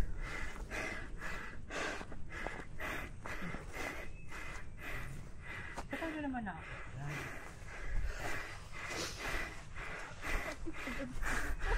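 Heavy, rhythmic panting comes from someone who has just climbed a long flight of steps. The quick breaths are close and repeat steadily, with some talking mixed in.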